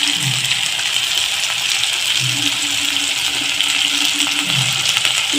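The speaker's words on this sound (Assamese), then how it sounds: "এতিয়া মিহিকৈ কাটি ৰখা বিলাহীখিনি দি ভালদৰে ভাজি ল'ম।" Finely chopped tomatoes fry in a pan with turmeric for a jackfruit seed curry, a steady close sizzling hiss with faint stirring, no talk.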